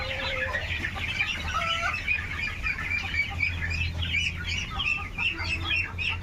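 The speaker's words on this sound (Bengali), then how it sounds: "আর মুরগিগুলো ভয়ে ছোটাছুটি করতেছে" Domestic chickens cluck and squawk in agitation while ducks are caught for vaccination on a farm; the calls overlap in a steady, busy chorus that carries on throughout, with no talking.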